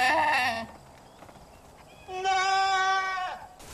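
In the video game Far Cry 5, a sheep lets out two wavering bleats, one short and one longer, loud and near, separated by a quiet gap with no speech.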